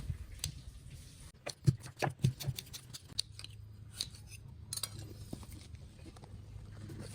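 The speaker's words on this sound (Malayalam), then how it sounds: "നമുക്ക് ഇതൊക്കെ ഒന്ന് ചെറുതായി കട്ട് ചെയ്തെടുക്കാം അതേപോലെ കനം കുറച്ചിത് അരിഞ്ഞെടുക്കാം" A knife slices tender jackfruit into thin pieces for frying, giving crisp, snipping cuts in quick irregular clusters, then a steady run of softer chopping, close up and fairly quiet with no talking.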